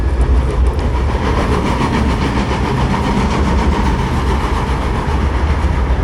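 A train runs on a rail line near Nasugbu with a steady, loud, continuous rumble and rolling clatter that stays close for the whole stretch, and no one speaks over it.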